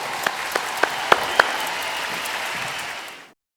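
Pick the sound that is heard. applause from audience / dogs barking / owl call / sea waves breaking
applause from audience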